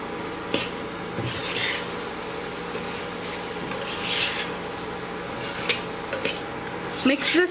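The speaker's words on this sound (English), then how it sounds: "Mix this carefully. Make sure you don't break the rice." Soaked basmati rice being stirred into a pot of prawn pulao, with soft scraping and clinks of a spoon against the pot and a few brighter metallic knocks near the end, close and moderately quiet.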